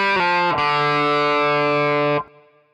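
Distorted electric guitar plays a short pattern from a song, with a bend, a slide and a pull-off: a few quick notes, then one loud sustained tone that cuts off and rings out briefly.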